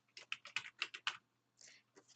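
Typing on a computer keyboard: a quick run of about seven crisp key clicks, then a pause and a few softer taps, close and clean against silence.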